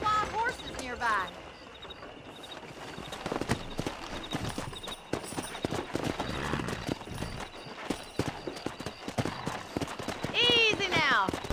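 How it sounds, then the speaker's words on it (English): Horse hooves clip-clop steadily amid outdoor ambience in the video game Red Dead Redemption, with voices talking over them and a horse whinnying near the start and again at the end. "there's a pack of wild horses nearby."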